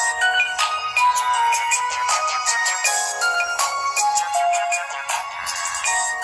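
A 2010 Sony Ericsson Spiro W100i mobile phone plays a bright, bouncy electronic ringtone melody, clear and close for several seconds with no talking.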